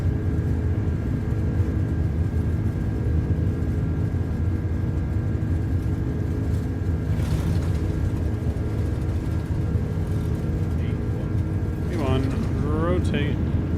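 An A330-300 freighter airliner on its takeoff roll in Microsoft Flight Simulator 2024, a steady loud engine roar with a constant hum, a voice speaking briefly near the end.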